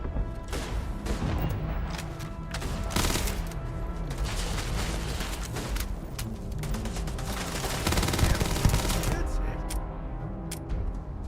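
Dense, sustained gunfire in the video game Starfield, with rapid overlapping shots and bursts that stay loud and busy throughout amid other combat noise.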